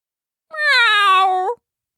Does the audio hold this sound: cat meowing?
yes